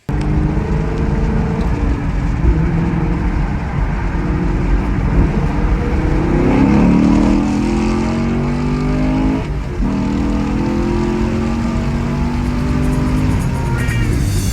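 A Chevrolet Camaro with an LT2 engine and newly installed manifolds cruises along, its deep engine note rising and falling through the RPMs in a steady, loud in-cabin drone.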